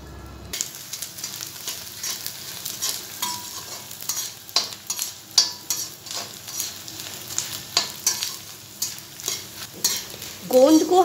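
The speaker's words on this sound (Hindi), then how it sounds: "उसके बाद फिर मैं वापस इसमें दूसरे 100 ग्राम गोंद है उसको फ्राई करूँगी।" Edible gum (gond) for laddoos fries in a pan, giving a bright close sizzle broken by frequent scraping stirs and spoon clinks, with a burst of crackling near the end and no voices.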